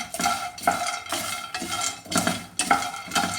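Peanuts roasting in a pan are stirred in rhythmic, close scraping strokes, about six sweeps in quick succession, with a dry rattling crackle between them and no talking.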